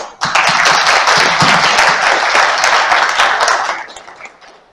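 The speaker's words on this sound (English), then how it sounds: "So let's give a round of applause for him" An audience at an investment seminar gives a round of applause for the city's mayor, dense steady clapping from many hands that swells quickly, holds for a few seconds and then fades away.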